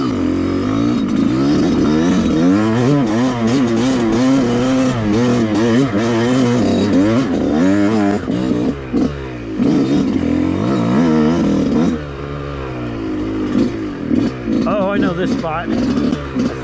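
A two-stroke dirt bike on a single-track trail revs loud and close, its pitch rising and falling in repeated surges with some clatter throughout.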